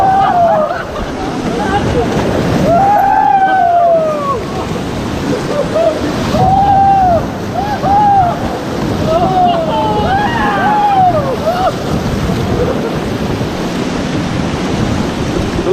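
Rushing rapids on the Ganges river roar steadily during whitewater rafting, a continuous, loud wash of water under shouting and talk from the rafting crew.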